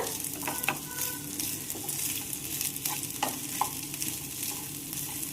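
Cooked rice is stirred into sour, spicy raw-mango rice in a pan, giving a steady scraping and rustling with soft sizzle and occasional spoon knocks, with no talking.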